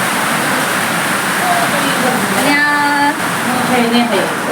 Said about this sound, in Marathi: किती पाऊस आलाय